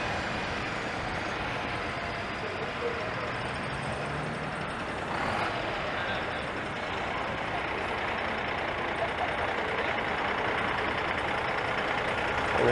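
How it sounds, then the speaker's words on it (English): A hop-on hop-off tour bus idles in traffic on Bloor Street West in Toronto, giving a low, steady engine drone blended with street noise throughout. "I've got a hop-on, hop-off tour bus in front of me"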